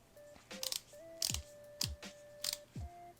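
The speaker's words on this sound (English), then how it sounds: "You can hear the motor." A Bronc wireless short tattoo pen running its motor at 7 volts, heard as faint steady whirring tones with recurring mechanical clicks and ticks at roughly half-second intervals, close and quiet.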